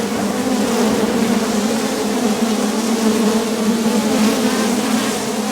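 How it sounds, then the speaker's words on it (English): Dense, loud buzzing of many bees swarming out of a hive box after being sprayed, a continuous droning hum close by with no pauses. "You hear those bees? Flying out, they do not like this."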